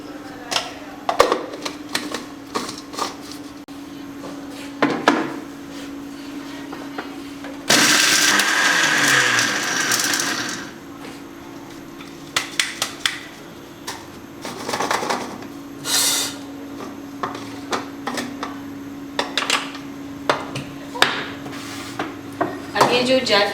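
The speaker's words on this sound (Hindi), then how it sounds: "ये जो तेज़ पत्ते हैं इनको भी आप साथ ही पीस लीजिएगा।" A spice grinder blitzes whole spices and bay leaves for biryani masala in a short, loud burst. Scattered clicks and rattles of the jar and lid come before and after, with no voices.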